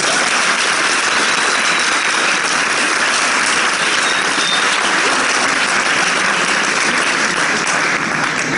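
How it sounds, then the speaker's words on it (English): Sustained audience applause for dancers on stage fills the space, a continuous wash of many hands clapping at a constant, fairly loud level from start to finish. "Can we give them another round for applause?"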